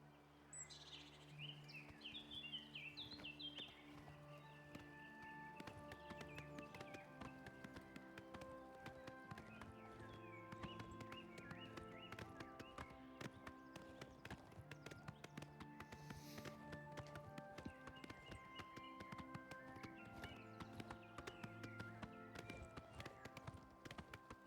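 Horse hooves clip-clop steadily in Oblivion Remastered, the game's music playing underneath, with faint bird calls in the background.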